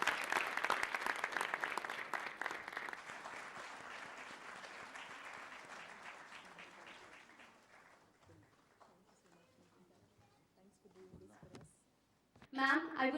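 An audience at a book launch applauds the authors of a book on RTI with sustained clapping that gradually fades, then a voice speaks briefly at the end.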